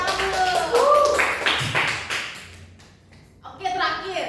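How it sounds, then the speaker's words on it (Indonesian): Students in a classroom clap briefly together during a microteaching lesson, a short burst of hand claps that fades quickly before children's voices and the teacher's talk take over. "Tepuk tangan dulu."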